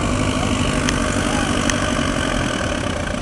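Diesel tractor engine straining under load at a fairground tractor pull, a dense, steady roar filling the clip with a couple of sharp clicks over it, loud and close throughout.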